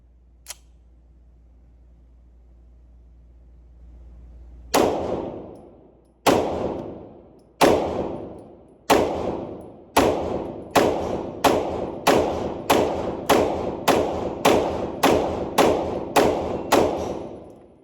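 An MPA DS9 2011 Commander pistol fires a 16-round magazine on a range, with about fourteen sharp, loud shots. They come in an uneven string that speeds into a rapid, steady cadence until the slide locks back.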